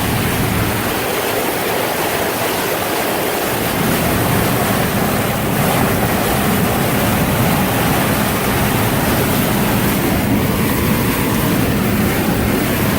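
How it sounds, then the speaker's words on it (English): A vehicle ploughs through deep floodwater during the 2017 Texas flood, making a loud, continuous rushing and surging water roar that stays steady throughout, with no talk. "Dude, look at the waves we're making."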